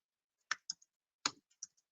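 Computer keyboard typing, a few sharp, close clicks in two short bursts separated by silence, fairly quiet.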